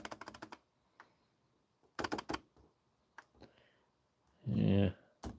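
Computer keyboard keys are pressed while playing old games on Windows XP: scattered single clicks and quick bursts of typing, close and fairly quiet, with a longer rustling clatter near the end.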